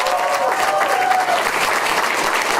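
An audience at a school district board meeting applauding students headed to a state Destination Imagination contest, dense steady clapping from a room full of people.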